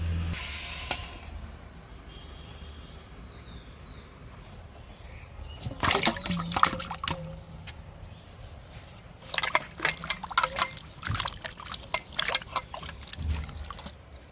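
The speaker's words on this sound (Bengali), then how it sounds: "আমগুলো খোসা ছাড়িয়ে নিয়েছি এখন আমি পরিষ্কার জলে ধুয়ে নেব" Peeled mangoes are washed in clean water for pickle-making, heard as a quiet stretch followed by two bursts of splashing, swishing and dripping water near the microphone.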